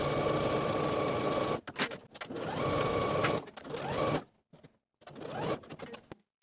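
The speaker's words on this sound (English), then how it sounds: "And then sew the pockets in place with a 3/8 inch seam allowance." Domestic sewing machine stitching dress pockets onto the skirt side seams at a 3/8 inch allowance, sounding in three steady whirring bursts broken by short pauses, close and fairly loud with no talk.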